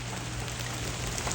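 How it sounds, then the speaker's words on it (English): Heavy rain pouring down outdoors in winter weather, a loud, steady, dense hiss of drops striking surfaces with no letup and no voices. "It is so much rain today"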